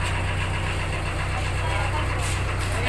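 A boat engine idles with a low, steady throb while passengers board at a cove in Zambales, the rumble continuous and fairly close beneath the chatter of people talking.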